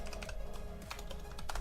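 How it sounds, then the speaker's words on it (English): Computer keyboard typing in quick, irregular bursts of light key clicks, close and fairly quiet, with a steady background hum and no talking, during a holiday session of the strategy game Stellaris. "I was typing."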